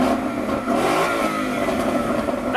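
A sixth-generation Ford Mustang engine revs hard nearby, one sustained loud roar with a rising, rumbling tone, heard alone.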